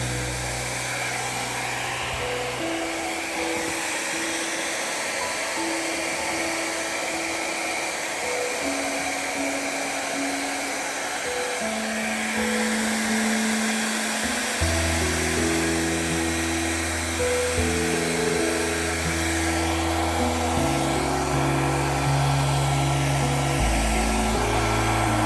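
Steady whirring blower, likely a hair dryer, pushing thinned fluid art paint across a canvas while pouring cherry blossom trees, running loud and continuous throughout with shifting pitch and no talk.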